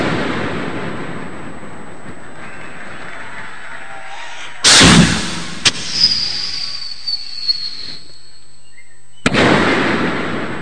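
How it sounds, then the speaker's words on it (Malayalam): Aerial firework shells explode at an Onam festival in Punalur. Two loud, sharp booms come several seconds apart, with a few smaller pops between them over a low background murmur. "അമിട്ടോ അമിട്ട് കൂട്ടിയില്ലേ, കുഴപ്പമില്ല,"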